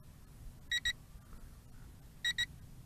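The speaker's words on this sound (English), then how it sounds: "there's some kind of beep going on" A Potensic D58 FPV drone with GPS auto return emits two pairs of short, high electronic beeps, spaced about a second and a half apart, faint against quiet outdoor background noise.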